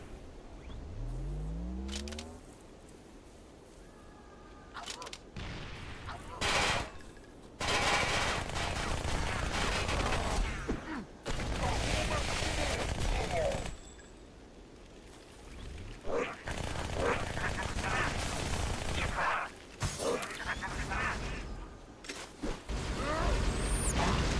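Enemy gunfire in the video game Halo: Spartan Assault, loud bursts of rapid fire and blasts in long stretches broken by short pauses, mixed with game effects and someone talking at times.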